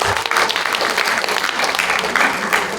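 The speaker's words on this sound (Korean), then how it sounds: "환영의 박수 부탁드립니다" Loud, sustained welcoming applause from the audience opening a policy forum at the 9th World Korean Women's Convention in the National Assembly conference hall, many hands clapping in a continuous crowded patter.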